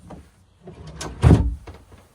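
A large storage drawer at the foot of a bed aboard a Mikelson 45 yacht slides along its runners in a short scraping movement, ending with a soft bump, close by.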